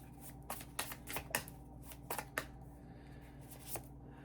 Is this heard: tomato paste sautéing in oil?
no